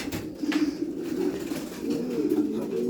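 Loft pigeons give low, rolling coos close by, one throaty call running into the next over a few seconds with faint background noise.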